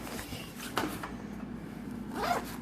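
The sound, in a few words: zipper of pouch on REI Trail 40 backpack hood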